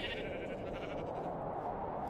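Minecraft sheep bleat in the game world, a steady mid-pitched bleating over a constant background bed with no talk.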